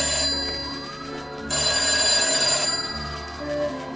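A telephone rings in a police judiciaire office, its bell trilling in repeated bursts over steady background hum, with no talking.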